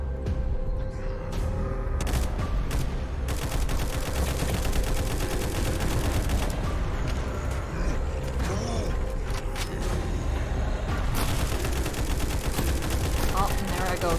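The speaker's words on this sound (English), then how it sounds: "Oh, and there I go, shooting the barrel." Gunfire in the Frontline Zed video game ends in a shot barrel, with dense, continuous loud shooting and mechanical clatter under the sound of a voice talking.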